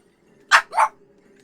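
A puppy close by gives two quick, sharp barks in a row over a quiet background with a faint low hum.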